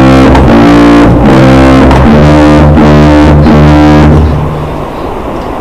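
A sousaphone plays a short demonstration phrase at a live telethon stream, loud and close with steady low sustained notes and buzzy distorted overtones, fading out near the end.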